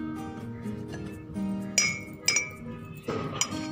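A teaspoon clinks against a cup while cappuccino coffee is prepared, three or four bright, close metallic-glass taps over a steady hum of background noise.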